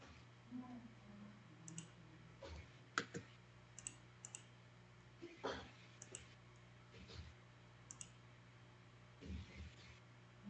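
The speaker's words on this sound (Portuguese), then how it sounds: "e vou clicar aqui para fazer o sorteio" A computer mouse clicked while running an online giveaway draw, producing several sharp, faint clicks spread out over a low steady hum, with brief background noise between them.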